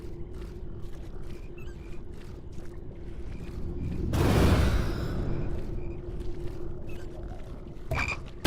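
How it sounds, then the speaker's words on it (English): Frogs croak repeatedly in a video game setting, a steady chorus of rhythmic croaks over a low tonal hum, with a loud whooshing surge in the middle and a brief sharp sound near the end. "Frogs."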